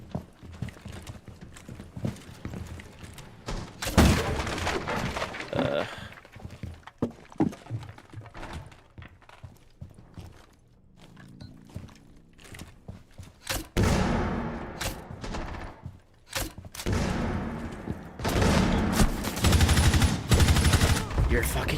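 Gunfire from the tactical shooter game Rainbow Six Siege crackles in dense bursts and volleys through gameplay, loud and busy, with other game effects mixed in and brief talk in places.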